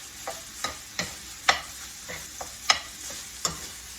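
Beef enchilada filling seasoned with black pepper being mixed around in a pan, a low sizzle punctuated by about eight distinct spatula scrapes and knocks at a loose, uneven rhythm.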